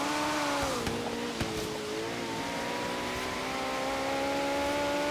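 An Audi in Forza Horizon 3 accelerates with a continuous droning engine note that dips, then climbs steadily in pitch, loud and alone with a few faint clicks.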